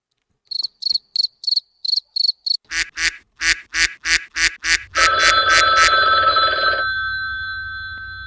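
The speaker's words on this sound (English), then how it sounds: "Cricket noise." A cricket sound effect trills in rapid, high, evenly spaced chirp bursts, then gives way to louder, broader pulses and a sustained ringing tone that fades out.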